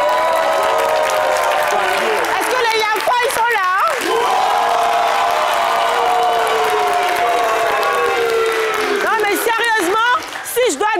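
A live crowd at a Ivorian entertainment show erupts in loud, sustained applause and cheering, with whoops and shouted voices rising and falling over roughly ten seconds.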